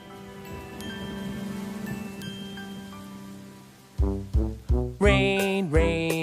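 Rain falling as a steady patter that fades out partway through, after which sung or musical tones with a strong rhythm take over.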